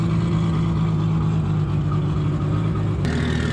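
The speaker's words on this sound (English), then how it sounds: "Engine's idle, and it's got a misfire." A car engine idles with a misfire at a Sydney jamboree, a loud, steady, close rumble running unbroken with no talking.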